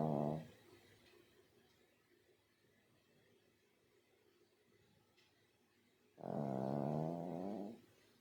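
A sleeping dog snores in two loud, rasping bursts, one at the start and a longer one near the end, separated by a quiet stretch of faint room noise.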